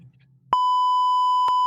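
A loud, steady censor beep cuts in as a pure electronic tone and holds for just over a second. A brief click interrupts it near the end, and a low murmur comes before it.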